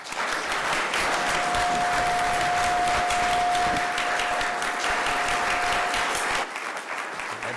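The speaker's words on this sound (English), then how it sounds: "That deserved a huge round of applause right there." A large audience applauds after Jerome Powell's speech at the Jackson Hole Symposium, dense sustained clapping that stays loud throughout before easing slightly near the end.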